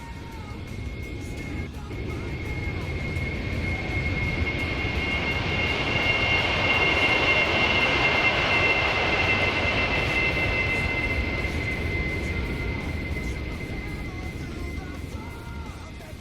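An A-10 Thunderbolt II jet in a Roblox airshow demo makes a pass with a sustained engine roar and a high whine that swells to a peak and fades, while a voice narrates faintly under it.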